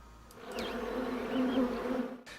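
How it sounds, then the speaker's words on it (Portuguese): Honeybees buzz at the entrance of a hive as foragers crowd in carrying nectar, a steady close drone with individual bees whining past and swelling midway, no voices. "Impacientemente as abelhas esforçam-se para entrar na colmeia, para se libertarem da carga que trazem, o néctar."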